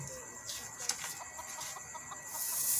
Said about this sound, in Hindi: ये कुछ देसी मुर्गी और जंगली मुर्गी और मुर्गियाँ।